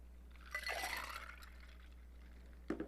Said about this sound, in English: A little more ice.